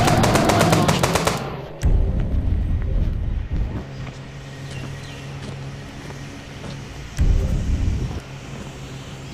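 Gunfire aimed at a car in a video game, opening with a loud rapid burst of automatic shots, then rumbling engine or wind-like noise with heavier thuds recurring later.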